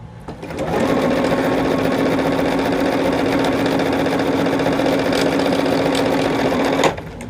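A sewing machine stitches a quilt block in one long, loud, steady run that starts up and stops sharply near the end, with no voices over it.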